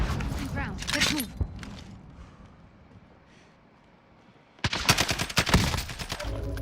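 Gunfire in the video game Call of Duty: Warzone comes in rapid bursts at the start and again near the end, loud and crackling, with a player's voice talking over the opening burst.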